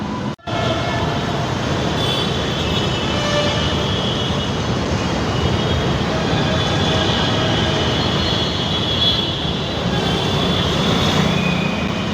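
A metro train runs on an elevated track above a new road flyover, producing a loud, continuous rumbling roar that holds steady throughout after a brief dip at the start.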